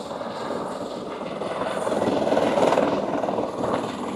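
A landing helicopter's rotor chop and engine roar dominate at the Twelve Apostles, loud and nearby, swelling slightly in the middle before easing off.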